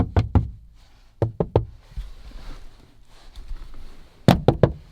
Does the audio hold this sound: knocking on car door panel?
yes